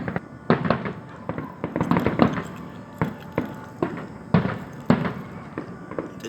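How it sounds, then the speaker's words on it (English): Fireworks burst over Paradise Island in Nassau, Bahamas, a loud string of sharp booms and crackles about every half second to second, heard from a porch with no one speaking. "Fireworks galore."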